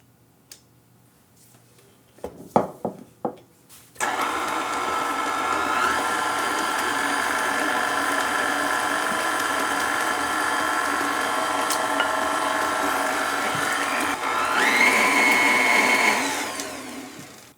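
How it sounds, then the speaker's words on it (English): An electric mixer whirs loudly and steadily as eggs are beaten one at a time into creamed butter for a lemon blueberry loaf, preceded by a few sharp knocks and clicks before the motor starts and slows near the end. "I'm just going to add 1 at a time, and I'm going to mix well in between each one"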